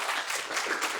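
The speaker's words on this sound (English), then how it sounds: "can we have a giant round of applause" Applause from a lecture audience at the end of a class, a dense steady patter of many hands clapping together, fairly close and sustained without pause.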